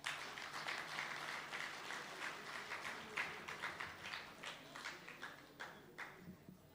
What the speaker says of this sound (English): Round of applause for basketball.